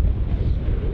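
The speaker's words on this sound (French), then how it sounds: "et qu'il y a du vent" Strong wind buffets the microphone in a low, rumbling gust that lasts the whole moment, loud and close.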